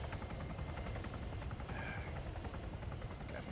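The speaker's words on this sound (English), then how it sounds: "Flying a helicopter in which I am." Helicopter in the video game King of the Hill, a steady rotor drone with rapid rhythmic chopping and a low engine rumble, continuous and fairly faint throughout with no talk.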